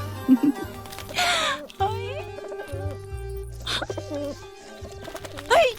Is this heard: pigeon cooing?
yes